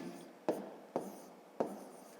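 Pen or pencil writing out a long multiplication for a fifth-grade maths exercise, three sharp taps of digits being marked with scratchy strokes between them, close and quiet, no speech.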